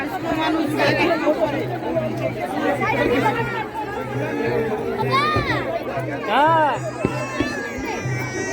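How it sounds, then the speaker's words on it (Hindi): Crowd chatter at a Chhath Puja river ghat: many voices overlap in a lively, continuous babble, with children's shouts and calls rising nearby over steady background noise. "यहाँ पे जो ये भीड़ है, ये भीड़ का ना एक माहौल ही अलग होता है"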